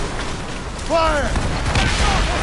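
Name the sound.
ship cannon volley in Assassin's Creed Rogue video game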